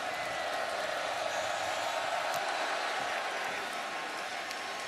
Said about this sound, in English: This is an anxious crowd, a record crowd tonight